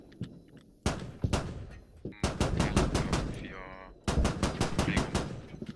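BTR machine gun in the video game Squad fires several rapid bursts of loud heavy shots in a regular rhythm, separated by short gaps, with a voice briefly audible in between.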